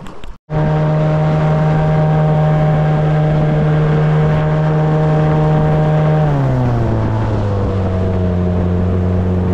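A water-jet boat motor runs loud and close on a river, a steady droning hum that drops in pitch partway through as the throttle eases.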